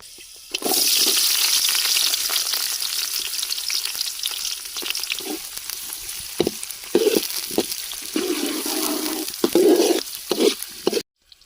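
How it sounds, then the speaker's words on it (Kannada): Chopped onions tossed into hot oil with ginger and garlic, a loud steady sizzle of frying with several clattering stirs and scrapes toward the end, then a sudden stop. "ಇವಾಗ ಕಟ್ ಮಾಡ್ಕೊಂಡಿರೋ ಈರುಳ್ಳಿ ಹಾಕ್ತಾ ಇದ್ದೀನಿ"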